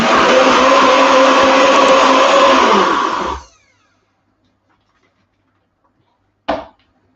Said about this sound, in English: all I'm going to do is to blend this up on my food processors